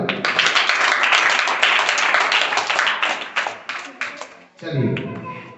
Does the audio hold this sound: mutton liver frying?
no